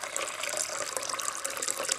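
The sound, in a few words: water being poured and filtered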